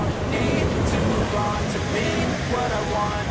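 Rough, high ocean surf at Gyeokpo on the Byeonsan Peninsula rushes in a steady, dense roar close by, with wind noise throughout.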